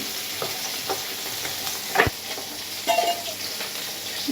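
Fish frying in a pan, a steady soft sizzle with a few clinks and stirring scrapes, no talk.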